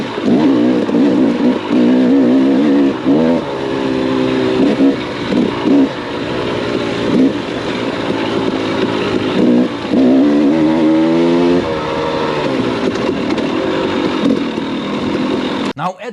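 A two-stroke dirt bike fitted with a Lectron Billetron Pro carburetor revs up and down on trail riding through the gears, its crisp engine note rising and falling loudly and continuously.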